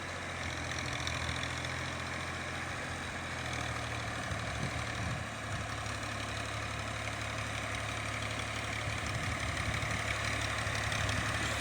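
A 2021 Ghazi tractor engine runs at a steady low rumble while levelling a flooded field, a continuous idle-like drone with a faint knock, moderately distant and without speech.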